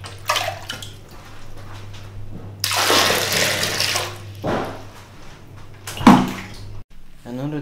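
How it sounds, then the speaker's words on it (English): A typical Asian toilet flushing: a loud rush of water lasting about two seconds, then shorter gurgling surges over a steady low hum, with a brief voice near the end. "and this is how you flush the toilet."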